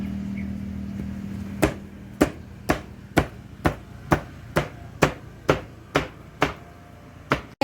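Cooked Acehnese lemang, glutinous rice in bamboo, is cut with a series of about thirteen sharp, evenly spaced chopping knocks, close and loud against a quiet background.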